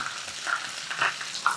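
Crushed ginger and garlic paste fries in hot oil with a soft, close sizzle and brief spits and crackles that rise in short bursts. No one speaks.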